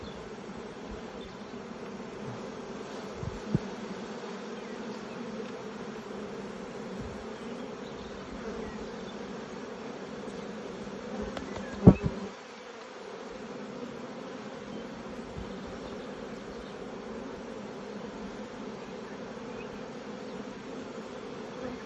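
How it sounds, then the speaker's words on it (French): A low, steady buzzing of many honeybees during a spring honey flow hums throughout, fairly faint, with a couple of brief knocks partway through. "Donc ça va être des abeilles."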